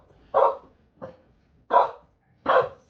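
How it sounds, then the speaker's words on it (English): A dog barks four times in a loud, close, uneven series of sharp woofs indoors at home, with brief silences between barks. "Why are you barking?"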